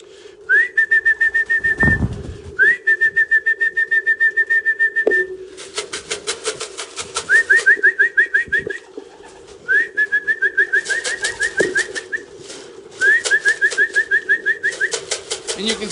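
Racing pigeons at a loft make repeated close calls in rhythmic bursts, with a steady low hum underneath.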